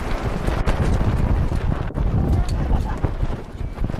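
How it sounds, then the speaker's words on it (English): Wind gusting across an outdoor baseball game, buffeting the microphone as a loud, steady low rumble for several seconds with no talk over it. "Another gust of wind."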